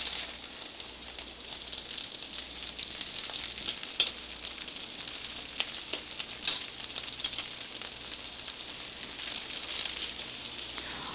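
Veal cutlets fry in a pan with a steady, dense sizzle that holds for the whole stretch, broken by small crackles and pops, close and even in level with no talk.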